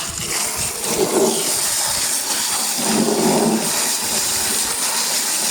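Water sprayed from a handheld sprayer onto cucumber plants in a farm field, a steady broadband hiss running throughout with slight surges.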